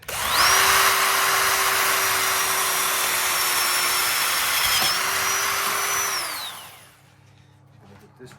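An old Ryobi power drill whines steadily as it bores holes in patio furniture, a loud sustained motor tone running for about six seconds with a brief dip midway before spinning down.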